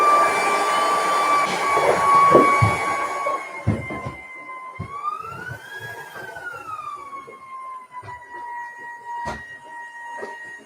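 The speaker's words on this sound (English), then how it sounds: "Mag-vacuum lang." A robot vacuum cleaner runs indoors with a sustained whining hum whose pitch rises and falls, loud at first and then steadier, with clatter and bumps of household activity around it and no clear talk over it.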